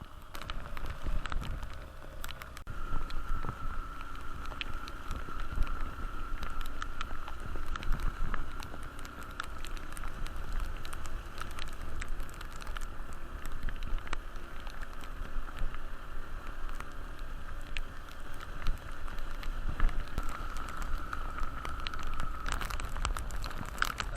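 Heavy rain and gusting wind during Typhoon Uwan, with a Yamaha YTX motorcycle ride on a slippery high road; a steady dense patter of rain and rushing air continues for the whole stretch, with no talk.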